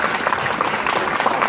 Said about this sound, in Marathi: सो प्लीज 2 हातांनी टाळ्या वाजवून सगळ्यांचं स्वागत करावं.